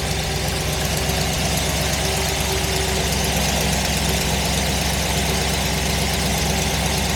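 A 1955 Ford F-100 custom pickup's engine idles steadily and smoothly, a continuous low rumble with no breaks, close by and moderately loud, with no talk over it.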